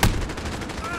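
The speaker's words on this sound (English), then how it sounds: "Shooting at me." Rapid automatic gunfire from an online shooter game, a dense loud burst at the start followed by continuous rattling shots and effects throughout the second.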